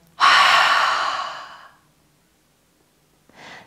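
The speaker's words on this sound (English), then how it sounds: "So taking a deep breath in," A long, deep breath in and out for a breathing exercise, loud and close, fading over about a second and a half, followed by a quieter second breath after a pause.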